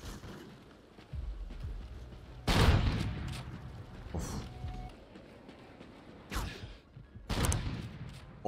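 Gunfire in the video game Call of Duty Ghosts, several loud sharp bursts of shots spread across the stretch with quieter movement sounds between them and no talk.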